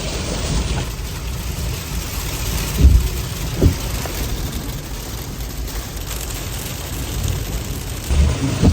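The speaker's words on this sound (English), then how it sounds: "It's hailing. It's hailing!" Hail pelts down in a steady rattling wash during a May storm, with a few louder thumps of stones striking nearby surfaces and a low rumble underneath.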